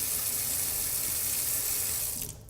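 Tap water runs steadily into a closed sink with a sensitive mechanical plug, a loud, even rush that continues without break and eases slightly at the very end.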